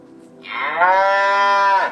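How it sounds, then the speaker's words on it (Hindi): A talking sound book plays a cow's moo: one loud, drawn-out, tonal low that swells and then cuts off, heard alone and close. "कोई गाय वगैरह है।"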